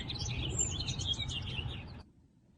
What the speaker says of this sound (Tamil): பேக்யார்டில் ஸ்ப்ரிங் சீசன் ஸ்டார்ட் ஆனதுனால பேர்ட்ஸோட சவுண்டு ரொம்பவே அதிகமாக இருந்துச்சு